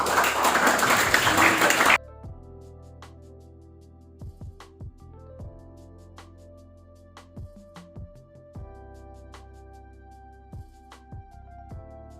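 An audience at a student event on money politics claps and cheers loudly in a dense burst at the start, which cuts off into a quiet room with scattered knocks and handling sounds.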